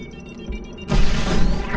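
An explosive charge blasts open a door in the video game Star Wars Republic Commando: quiet mechanical ambience gives way to a sudden, loud, broadband crash that keeps roaring to the end.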